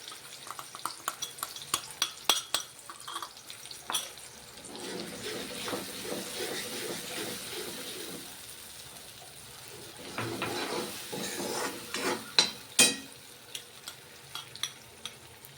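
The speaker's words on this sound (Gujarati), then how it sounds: "ત્યારબાદ આપણે આ જે પેસ્ટ બનાવેલી છે મસાલાવાળી તે એડ કરી દઈશું" Spiced masala paste hits a hot pan for aloo chole chaat and is stirred, giving a soft, steady sizzle under scraping and clattering stirring strokes, with sharper clinks of the spoon near the end.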